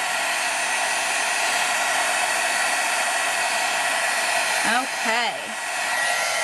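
A heat embossing tool blows hot air steadily to melt embossing powder on a stamped card, giving a loud, constant fan-like whoosh, with someone briefly speaking over it near the end.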